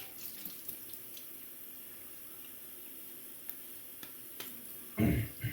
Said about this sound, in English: just gonna wash it off and put it to the side for now